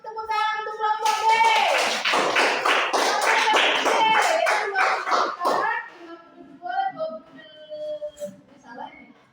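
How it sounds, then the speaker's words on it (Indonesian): Children in a classroom clap for group B, a loud burst of dense hand claps from near and around the room that swells, holds for several seconds, then thins to scattered claps under voices. "Beri tepuk tangan untuk kelompok B."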